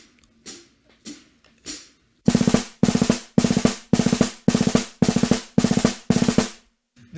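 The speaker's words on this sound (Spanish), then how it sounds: "Y ese es el Five Stroke Roll de esta forma de verlo." A five stroke roll played on a snare drum: sparse single taps at first, then a steady run of loud, close clusters of quick strokes, each group ending in an accent, repeated evenly with no talk.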